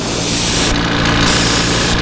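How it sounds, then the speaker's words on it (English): Airbrush or spray gun painting a fishing lure bait, a steady continuous hiss across the sides and top, loud and close, with no talk. "We are not spraying the bottom of this bait at all."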